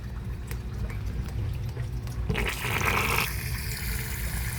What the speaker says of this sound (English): So when I open, water comes out, dirty water comes out.